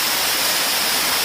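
Waterfall with low water flow in a village, seen from right above the falls, a constant loud hiss of falling water with no other sound.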